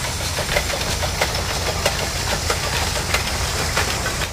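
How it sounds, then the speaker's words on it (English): Steam locomotive fly shunting at a brickworks railway in Xingyang, China, giving a steady loud hiss of steam and engine rumble with faint periodic clanks and ticks, heard alone with no voices. "This time the loco has to be moved to the back of the train before unloading."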